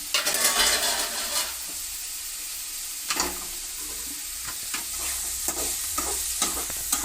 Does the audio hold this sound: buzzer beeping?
no